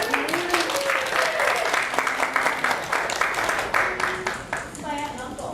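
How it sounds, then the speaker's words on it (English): Audience applause for Britta at a JemCon 2015 fan convention panel, steady clapping from a modest crowd with cheering voices over it, easing off toward the end as someone starts talking. "Yay, everybody for a round of applause for Britta."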